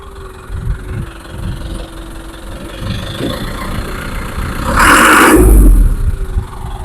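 A 2021 Eicher Pro 1055 truck engine idling close by with a steady low rumble, swelling into a brief louder rev near the end before settling back.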